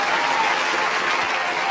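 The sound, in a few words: round of applause for sponsors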